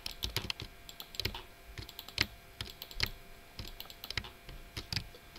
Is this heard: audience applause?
no